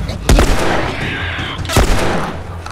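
Two loud, sharp gunshots from the video game The Last of Us, spaced about a second and a half apart, each with a brief booming tail.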